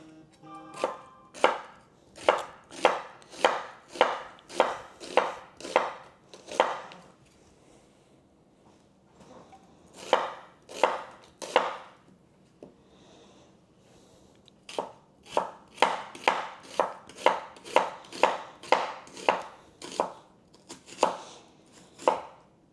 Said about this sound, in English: This half I am going to cut off the end.